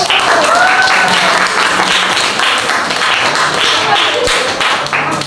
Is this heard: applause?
yes